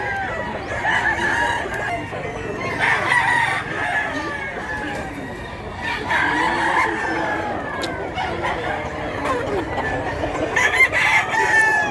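Large roosters and chickens crowing and clucking continuously at a poultry expo in Mantalungon, several birds at once, with a crowd murmur and voices in the background.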